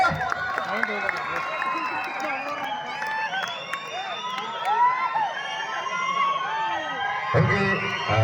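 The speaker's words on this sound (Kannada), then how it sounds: "ಬರಲಿ ಒಂದು ಜೋರಾದ ಚಪ್ಪಾಳೆ" A stage audience at a Kannada folk song event cheers, shouts and claps as a performer arrives, a dense steady crowd roar with clapping mixed in throughout.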